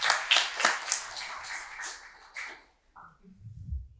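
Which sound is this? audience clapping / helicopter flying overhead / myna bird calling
audience clapping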